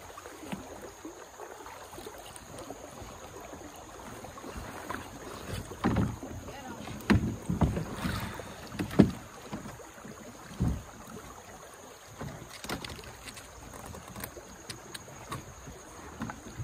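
A canoe on the Uwharrie River, with soft water sloshing and paddle or hull knocks that grow louder in the middle, set against steady outdoor background noise and some wind.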